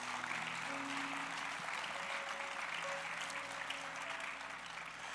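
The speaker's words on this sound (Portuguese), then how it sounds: "Give them an applause." Steady applause from a church audience, dense and continuous throughout, with no talk over it.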